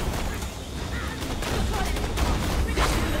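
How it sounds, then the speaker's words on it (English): Enemy gunfire strikes a shield in Borderlands: The Pre-Sequel as a dense, rattling fusillade of rapid shots and crackling hits, loud and continuous through the short stretch. "He's shooting my shield"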